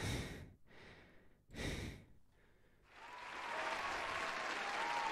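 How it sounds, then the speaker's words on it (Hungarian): Canned manual applause sound effect played in a Christmas Minecraft session: a few breathy sighs come first, then a steady, fairly loud wash of clapping fills the rest with no talking. "akkor benyomok manuális tapsot"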